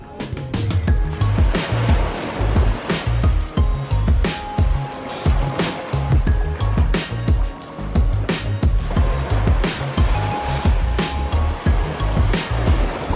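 Sea waves wash and churn at the shore in a steady, loud, continuous roar with rumbling low surges, close by and without voices.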